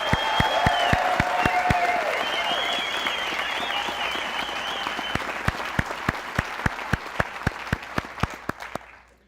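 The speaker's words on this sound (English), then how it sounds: "So let's give them another round of applause." A large audience applauds graduating fire academy cadets in a sustained, dense round of clapping that gradually thins and fades, with a few sharp individual claps near the end and voices briefly audible at the start.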